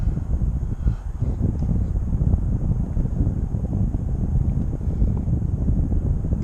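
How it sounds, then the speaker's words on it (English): Steady wind rushing across a flying drone's microphone, a dense continuous low roar that holds at a constant loud level throughout with no talk over it. "So the wind, that means the wind is coming from that would be the west out there."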